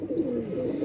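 A pigeon gives a short, low, throaty coo at close range, a soft rolling murmur with no other sounds around it.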